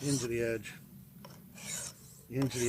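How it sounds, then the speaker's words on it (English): A sharpening stone on a KME system rasps along an axe's convex edge in a few long, close strokes separated by short pauses, a gritty rubbing scrape with no voices. "always finish with an into the edge stroke"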